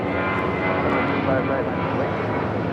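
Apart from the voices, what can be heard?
Spirit Airlines Airbus A320 taking off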